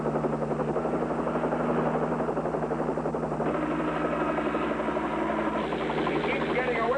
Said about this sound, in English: Highway patrol copter.